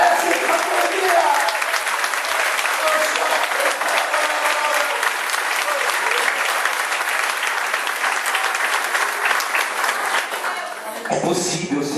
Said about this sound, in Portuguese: Aplauda Jesus, que desce a sua vida.